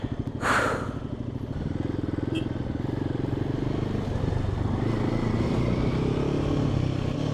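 An adventure motorcycle rides slowly in first gear, its engine giving a steady, loud, continuous low thrum with close mechanical clatter after a brief rising rev at the start, with no talk.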